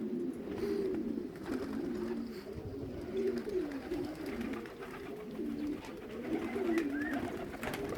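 Several pigeons coo continuously nearby, soft low rolling calls overlapping against a faint outdoor background, around a loft landing board on a sunny morning.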